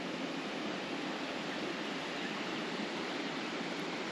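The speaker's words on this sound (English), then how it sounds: "Small waterfalls everywhere." Small waterfalls at Meiringskloof Nature Park pour in a steady, even rush of falling water, close and continuous with no voices.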